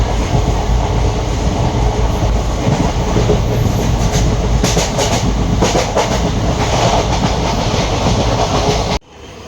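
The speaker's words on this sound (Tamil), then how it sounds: "ஃபஸ்ட்டு நமக்கு வந்து ஒரு அதர் சைடில் வந்து ட்ரெயின் கிராசிங் தான் நம்ம பார்க்குறோம்" Loud train passing on a railway in Kerala, a heavy continuous rumble with rhythmic clickety-clack of wheels over rail joints, close by, cutting off abruptly near the end.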